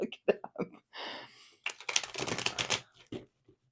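Tarot cards are shuffled close up in a series of papery riffles and flutters, quick bursts with brief pauses between them.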